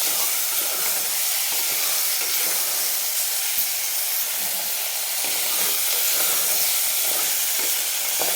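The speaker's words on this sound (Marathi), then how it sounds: "धुवून घेतलेलं मटण टाकायचं आहे आपल्याला आणि फुल गॅसवर आपल्याला ह्याला छान परतून घ्यायचं आहे." Washed mutton sizzles and hisses loudly and continuously as it is sautéed and stirred in a pan over a full gas flame for a spiced black mutton curry, with no talking.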